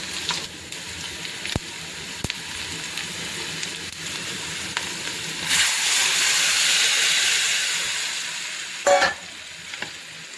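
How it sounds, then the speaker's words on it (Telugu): A sizzling tempering with curry leaves hisses steadily. Raw tamarind broth is poured in, bringing a louder rushing burst, followed by scraping stirs. "ఇలా పోపు బాగా వేగాక దీనిలోకి మనం పచ్చిపులుసు వేసుకుందాం"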